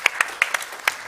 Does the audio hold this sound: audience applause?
yes